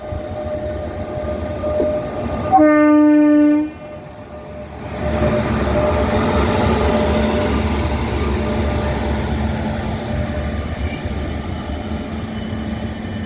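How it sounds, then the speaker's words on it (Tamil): A WAP7 electric locomotive rolls into Bodinayakanur railway station with a brief high horn blast, then a long steady rumble of wheels and engine close by, with faint squeals. "இந்த ரயில் இன்ஜினானது எப்படி போடிநாயக்கனூர் ரயில்வே ஸ்டேஷனுக்குள்ள வந்ததை இன்னொரு ஆங்கிளில் பார்ப்போம்"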